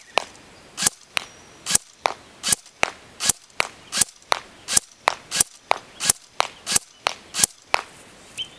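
A Cybergun M14 Socom electric airsoft rifle fires at a target at a 50-foot range, giving a steady series of about twenty sharp, snappy shots, each roughly half a second apart, with no talking.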